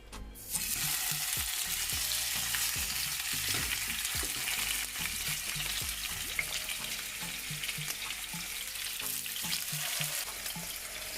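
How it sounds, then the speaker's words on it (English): Fish frying in olive oil in a pan, a loud, steady sizzle and crackle that continues throughout with occasional small pops, with no voices. "so we're just gonna fry it up"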